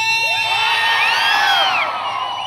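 An audience at a live stage music show cheers, whoops and shouts in a loud, dense burst of many voices, close and continuous throughout.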